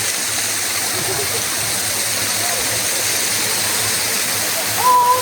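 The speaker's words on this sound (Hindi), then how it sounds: "झरना है" A waterfall in the Blue Mountains at Katoomba rushes in a steady, even roar, with a brief voice rising above the water near the end.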